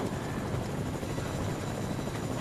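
Helicopter in an arena video game: a steady, close rotor drone with broadband whir fills the whole stretch at constant loudness, with no talk over it.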